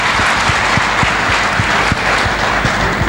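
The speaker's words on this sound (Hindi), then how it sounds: "मैं चाहूँगा इनके लिए एक बार जोरदार तालियां।" An audience claps loudly and steadily at a business testimony event, dense sustained applause from a near crowd throughout.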